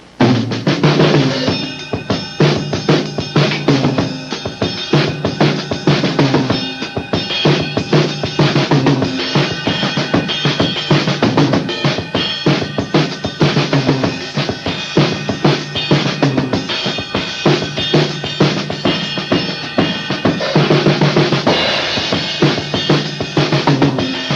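A full drum kit plays a busy, syncopated funk-samba groove, with steady dense hits and cymbal wash continuing loud and unbroken throughout.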